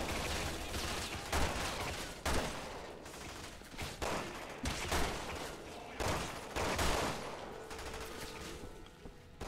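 Rapid bursts of gunfire from the video game Resident Evil 6, with dense overlapping shots and fusillade-like volleys that repeat loudly and steadily across the whole stretch.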